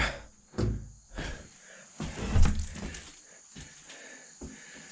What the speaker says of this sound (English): Let me pull this door too.